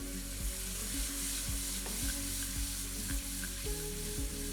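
Turmeric, chili and yogurt fry in hot ghee, a loud continuous sizzle close up with regular rhythmic stirring scrapes about every half second throughout, no voices.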